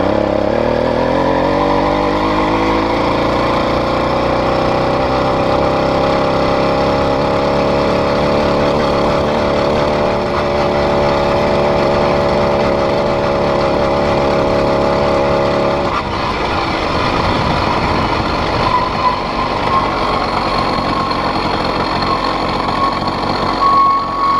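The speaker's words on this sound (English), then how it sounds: "Rev the engine." Close, loud 80cc two-stroke engine on a DIY cruiser bicycle, revving up and holding a steady buzzing drone while riding over a field, with the pitch shifting and the note roughening later.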